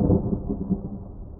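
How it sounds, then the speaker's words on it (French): A low, rolling rumble of thunder from a terrible night storm over a forest, with wind shaking the trees and heavy rain, heard alone as a short, dense, continuous growl. "Une nuit, il y eut un orage terrible et toute la forêt était secouée par le vent."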